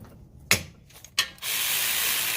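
A ratchet works on the brake caliper bolts of a Toyota Matrix, giving two sharp clacks about half a second apart, followed by a steady loud hiss that fills the rest of the clip.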